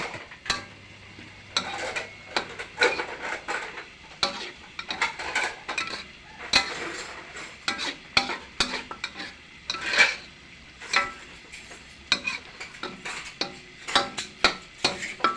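Minced pork stir-fried for Thai basil pad kaprao in a pan, quiet sizzling under repeated clinking and scraping strokes of a utensil against the metal, steady and close, with no speech.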